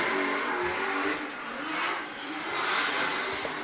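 A drift car's engine drones steadily at a distance on a stadium track, its pitch rising and falling as it runs through the turns, with no voices.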